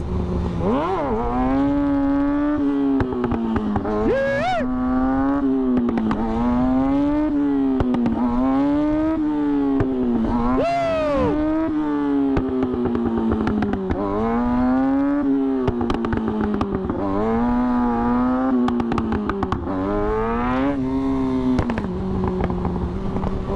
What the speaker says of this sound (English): I think the most fun wheelie is sit down. Especially first gear sit downs,